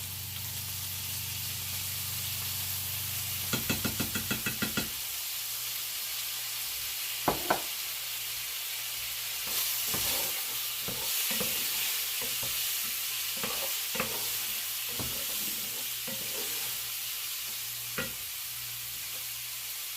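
Garlic, three cloves, sizzles in a pan with browned smoked sausage, a steady frying hiss broken by bursts of stirring and scraping clatter throughout.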